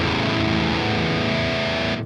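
Distorted metal guitar through the lethal channel of the KOBRAA amp sim, one dense sustained chord roaring loud and saturated, then cut off abruptly near the end, with no voices.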